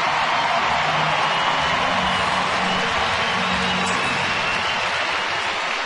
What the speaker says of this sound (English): Now the applause you hear, I don't think I really need to tell you who it is.